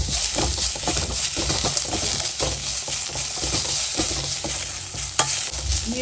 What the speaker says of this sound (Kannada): ನೀರುಳ್ಳಿ ಎಡ್ಡೆಂದು ಆಯ್ನೆ ಫ್ರೈ ಆಯ್ನೆ